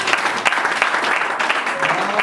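Church congregation clapping during a worship service, a dense, lively patter of many hands with crowd murmur mixed in, sustained throughout.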